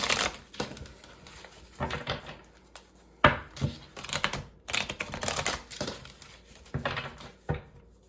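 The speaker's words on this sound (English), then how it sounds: "while I shuffle this deck" Crisp bursts of tarot cards riffling and flicking together, repeated in quick clusters with short pauses, close by and fairly quiet, no talking.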